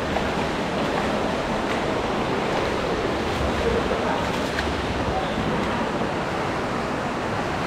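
A small waterfall pours steadily outdoors, a loud unbroken broadband rush of falling water with some wind buffeting against the microphone and no clear talk.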